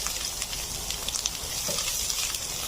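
Chopped onion and green chili fry in virgin olive oil, giving a steady soft sizzle with small scattered crackles and pops throughout.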